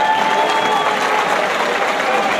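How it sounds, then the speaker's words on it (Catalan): A loud crowd at a Catalan giants festival in Calella claps vigorously and continuously, with faint cheering and a sustained whistle-like tone threading through the dense applause. "un fort aplaudiment"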